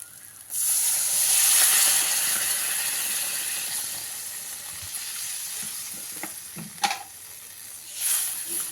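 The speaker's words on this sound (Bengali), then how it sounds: "এবারে এর মধ্যে আমি পরিমাণ মতন জল দিয়ে দিলাম" Water poured into hot masala frying for egg curry sets off a loud, close hissing burst that settles into a steady sizzle, with a few clinks and stirring knocks near the end.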